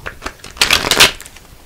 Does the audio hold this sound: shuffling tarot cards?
yes